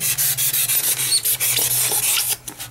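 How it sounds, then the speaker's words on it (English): Steady back-and-forth rasping strokes, close and loud, in a quick regular rhythm like a blade sawing through a soft material during carving. "use that sawing motion"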